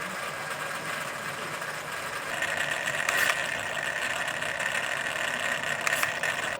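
Redcat Vertex-6 RC crawler truck running with its wheels spinning fast, a steady whirring motor drone with a high whine that rises and gets louder partway through, heard alone without talk.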